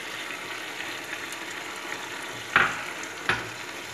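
Chicken frying in a pan with cooked tomato, a steady close sizzle with two sharp scraping stirs near the end, no talking.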